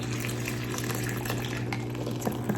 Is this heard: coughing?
no